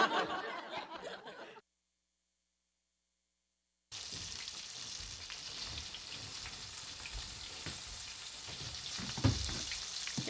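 Shrimp frying in hot oil, a dense steady sizzle with crackles and pops, cut by a sudden gap of silence before resuming loudly at close range.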